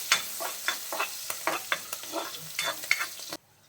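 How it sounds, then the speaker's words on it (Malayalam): Ginger, garlic and green chillies sautéing in a pan for an egg street-food dish, sizzling under rhythmic stirring strokes of a spoon against the pan, close, with the sound cutting off abruptly near the end. "ഇഞ്ചിയും വെളുത്തുള്ളിയും പച്ചമുളകും ഒക്കെ നന്നായിട്ട് മൂത്ത് വന്നിട്ടുണ്ട്"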